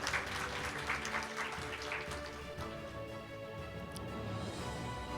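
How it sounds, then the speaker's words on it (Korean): A library awards ceremony audience claps in congratulation, a soft, continuous patter of applause that stays fairly quiet and even throughout. "여러분 큰 박수로 축하해 주시기 바랍니다"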